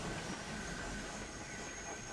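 Steam-era tank engine pulling away from a station in an audio drama, a faint, steady rail rumble with light clatter and a thin high whine, continuous and unaccompanied by voices.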